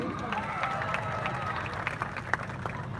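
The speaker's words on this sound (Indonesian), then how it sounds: "Tepuk tangan yang meriah sekali lagi." Crowd applause at a Balinese Baleganjur competition in Ubud, Gianyar: faint, distant scattered clapping with cheering and crowd chatter, a few sharper claps standing out.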